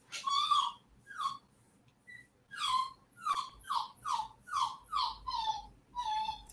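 A puppy whines and yelps in about ten short, high, rising cries that come in a steady run at close range, with quiet gaps between them and no talking.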